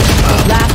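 Gunfire in the video game Valorant: a short, dense burst of rapid shots, loud and close, with a hint of voice underneath.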